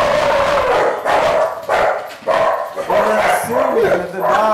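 Several dogs bark in quick, loud bursts at close range, with yips and whimpers mixed in and a voice talking over them.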